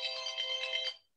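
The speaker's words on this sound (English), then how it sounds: "Wow, that was my phone." A phone ringtone plays in a single electronic burst of pulsing, bright tones lasting about a second, then cuts off into silence, clear and close with no talking over it.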